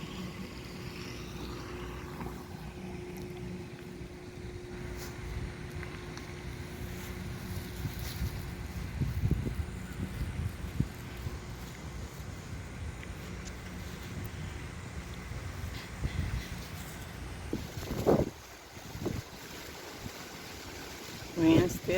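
Wind keeps blowing outdoors in the aftermath of Hurricane Ida, a steady low rush with occasional gusts hitting the microphone, and brief sharper knocks near the end.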